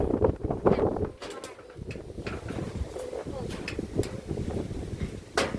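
Gusty wind blows across the microphone outdoors at night near a rural house, a rough rumbling roar under people talking, with occasional knocks and rattles.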